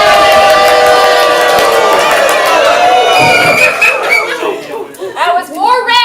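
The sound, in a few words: audience cheering for their team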